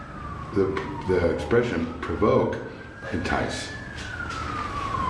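An emergency vehicle siren passes outside, its steady wail sweeping slowly down in pitch at moderate distance while several people talk and exclaim over it.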